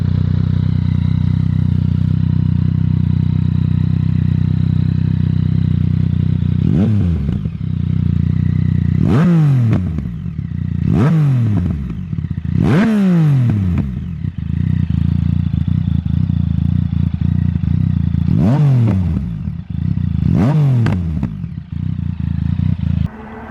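A Yamaha MT-09 SP motorcycle fitted with a short Akrapovic exhaust idles with a loud, close rumble, then gets blipped several times in sharp rising-and-falling revs before settling back to idle each time.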